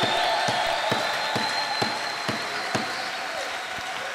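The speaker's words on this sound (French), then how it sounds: "Acclamons très fort. Acclamons pour Jésus." Church congregation applauding during a worship service, a steady wash of claps with regular sharp accents in an even rhythm, with a sustained musical tone underneath, at moderate level.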